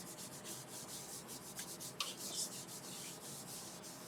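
A wooden bowl spinning on a lathe is rubbed with Yorkshire grit abrasive paste, giving a continuous soft hissing scrub with faint rhythmic pulses, close and steady throughout.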